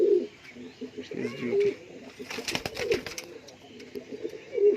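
Fancy pigeons coo repeatedly in a loft, close and moderately loud, with low rolling calls recurring throughout and a brief rattle of movement midway.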